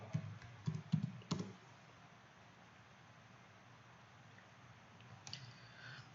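Faint, quick keystrokes on a computer keyboard type out a web address in a short burst of clicks, followed by near-silence and a few more soft taps at the end.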